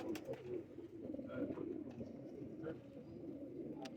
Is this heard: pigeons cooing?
yes